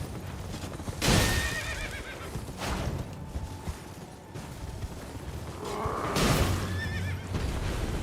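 A horse in Elden Ring lets out two loud shrill whinnies a few seconds apart, with hoof clops and game ambience underneath.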